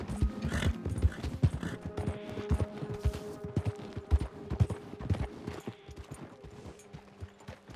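Horse hooves clip-clopping steadily in Red Dead Redemption 2, a close, continuous galloping rhythm with faint background game noise and no talking.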